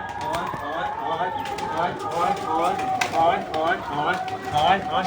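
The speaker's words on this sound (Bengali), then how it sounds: "গাছ পায়রাগুলো শুধু আমার পেছন পেছন ঘুরে বেড়াচ্ছে" Pigeons coo softly in close range, low throaty calls layered under a person talking while feeding the birds, with faint shuffling and movement around them.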